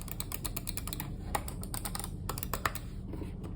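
A computer mouse scroll wheel, one of the Logitech M720, Lift, MX Master 3 or 3S, gives fast, dense runs of close, crisp ratchet clicks with a few sharper accents.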